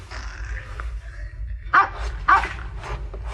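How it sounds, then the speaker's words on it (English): A dog barks twice nearby, two sharp distinct yaps spaced about half a second apart over a low background hum. "It sounded like a dog barking."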